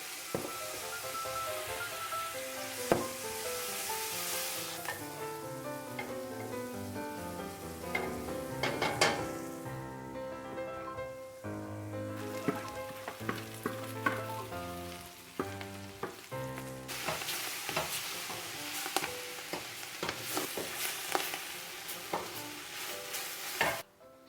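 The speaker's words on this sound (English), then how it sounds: "when you saute cabbage" Cabbage being sautéed and stirred in a pan, a steady sizzle with repeated scraping and clanking of the utensil throughout, close and fairly loud, with background music playing and no talking.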